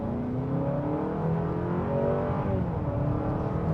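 2025 Honda Accord Hybrid Touring accelerating at about half throttle in eco mode: a steady, smooth engine drone from inside the cabin, its pitch climbing gradually with slight stepped shifts, no talking.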